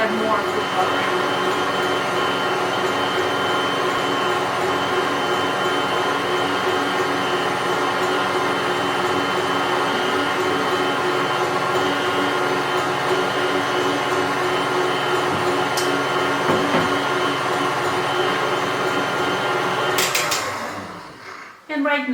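Stand mixer whipping meringue for pumpkin macarons, a steady loud motor whir with rhythmic beater churning throughout, cutting off near the end as the machine is stopped.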